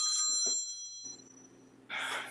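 A telephone rings in a short electronic trill near the start, then fades to quiet room tone before a burst of noisy broadband sound near the end, during a radio-style talk show.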